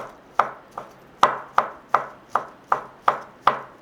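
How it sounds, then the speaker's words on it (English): A knife chops through thin strips of pan-fried egg on a cutting board, making nine crisp, evenly spaced taps with no voices. "So I cut it into 3, slice it thinly again."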